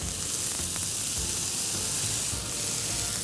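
Mushrooms, carrots, capsicum and cabbage sizzling in a hot pan for Indo-Chinese manchow soup, a dense, even hiss that holds steady and close throughout.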